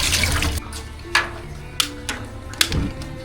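Water runs and splashes for washing at an African campsite in Eswatini, a close continuous flow broken by a few sharp splashes and clatters.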